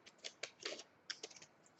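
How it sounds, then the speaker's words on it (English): Scissors snip through paper while making paper flowers for journalling, a quick run of crisp, close cuts alone in a quiet room. "you can actually just use scissors and do circular"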